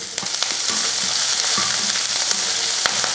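Onion and green chilli sauté in oil in a kadai with mustard seeds and curry leaves. An even, dense sizzle runs throughout, broken by occasional soft taps and crackles, with no speech.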